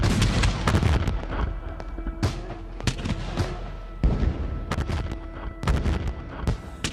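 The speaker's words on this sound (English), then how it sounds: "From Fort McHenry comes the sounds of a bombardment." Artillery bombardment of Fort McHenry at Baltimore in the War of 1812, with shells and rockets: heavy booms and cracking blasts arrive in irregular clusters, loud and reverberant, each trailing off into rumbling echo.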